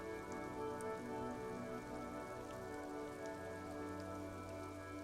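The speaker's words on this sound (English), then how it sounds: "Rain falls onto the roof of a woodshed." Steady rain patters on a woodshed roof in a video game, a dense, even hiss of drops with a low constant hum beneath, continuous and close throughout with no voices.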